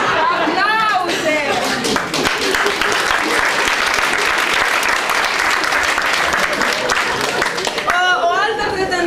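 Loud, dense audience applause and clapping, with voices and laughter at the start and end and chatter mixed into the middle, filling the room at close range.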